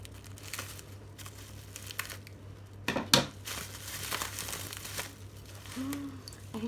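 Paper crinkles as a wrapped parcel is opened: scattered rustles and crackles, one sharp louder tearing crunch in the middle, then softer handling noises. Everything sounds close and fairly quiet.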